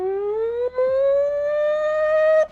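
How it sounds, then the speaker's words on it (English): A crank-style siren, set in a Tales from the Loop tabletop game, winds up alone in a single loud, steadily rising wail that holds near its peak before cutting off. "almost like a crank siren, kind of cues up"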